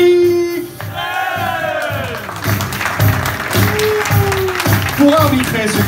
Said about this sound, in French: Un tonnerre d'applaudissements pour Thierry.